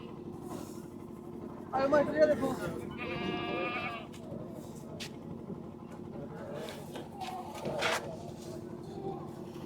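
Goats bleat briefly between bursts of nearby conversation at a livestock fair, with a low vehicle rumble in the background.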